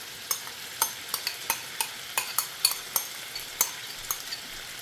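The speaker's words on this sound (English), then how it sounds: "And then we're gonna add our onions that we cut earlier." Onions frying in butter with pork in a pan give a soft continuous sizzle, punctuated by a quick series of sharp spatula taps and scrapes against the pan, close up, with no talking.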